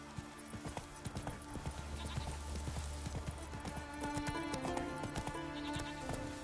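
Horse hooves clip-clop in the video game Witcher 3, a rapid, uneven run of close, crisp hoof strikes over a low rumbling ground of ambient noise, with faint animal and environmental sounds mixed in.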